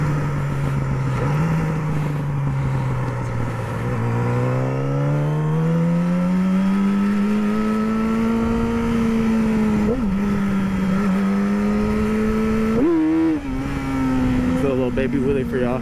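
A Yamaha R6 sport bike on a ride revs hard nearby, its loud engine tone climbing steadily with a brief dip and surge, up close and continuous.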